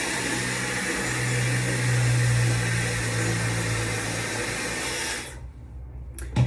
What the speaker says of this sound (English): I'm going to attach the hairdryer attachment, and I'm just going to give my hair a bit of a dry